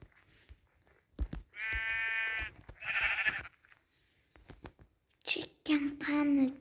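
Sheep out in the snow let out several loud, wavering bleats in separate bursts, with short quiet gaps and some faint human voices between them.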